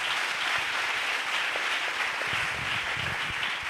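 A church congregation applauds during a Pentecost service, steady sustained clapping from a large crowd lasting the whole stretch, with a faint voice underneath.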